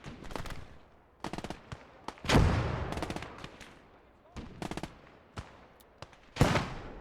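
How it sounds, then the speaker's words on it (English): Machine-gun and rifle fire in the WWII strategy game Gates of Hell: Ostfront, rapid clustered bursts of automatic gunfire alternating with single loud shots and booming impacts, sharp and close, with brief gaps between volleys. "Using suppressing fire on the front guy to try to take up some bullets from this machine gunner in the back."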